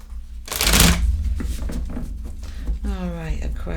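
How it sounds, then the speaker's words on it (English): Tarot cards are shuffled by hand in a quick riffling burst that crackles up close, then softer card handling follows. A voice is heard speaking over part of it. "they're telling me they need a bit more shuffling up"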